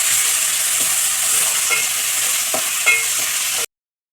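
Vegetable jowar rice khichdi (gatka) is stirred in a pan, giving a steady soft sizzle with scraping spoon strokes at an even pace, close and alone with no voices.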